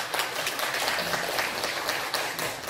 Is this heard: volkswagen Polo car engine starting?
no